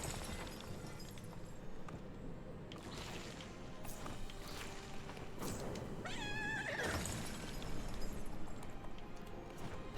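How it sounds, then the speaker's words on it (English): A pegasus in the Disney Dreamlight Valley video game lets out a drawn-out, cat-like yowl midway through, rising over a steady bed of game music and ambience. "Pegasus sounds like a cat."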